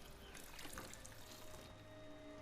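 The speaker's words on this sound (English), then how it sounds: "Here's a water fountain." A water fountain in the Fallout 4 video game runs with a soft, steady trickle and splash of pouring water, faint and continuous with no talking.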